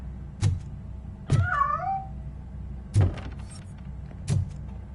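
A cat meows once in a RoboCop video game, a clear wavering cry between several dull mechanical thumps that fall roughly a second apart.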